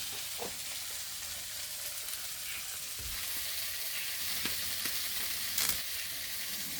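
Bitter gourd and potato fry slowly in a pan, a steady soft sizzle with a few faint scrapes and knocks across the whole stretch and no voices.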